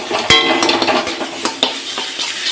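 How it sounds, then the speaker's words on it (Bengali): Raw banana peel stir-fried in a wok, steady oily sizzle broken by repeated scraping and clinking strokes of a spatula, close and continuous without talk. "এটা কিন্তু খুব ভালোভাবে নাড়াচাড়া করে ভাজতে হবে।"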